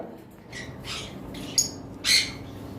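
Lovebirds on a breeding farm give a few short, shrill squawks and chirps, the loudest burst near the end, over a low steady background hum.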